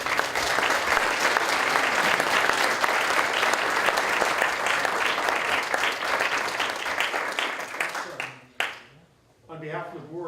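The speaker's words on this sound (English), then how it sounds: "So let's give everyone a round of applause again." Sustained audience applause at a school board of education meeting, a dense, loud roll of many hands clapping for about eight seconds before tapering off, followed by a voice speaking.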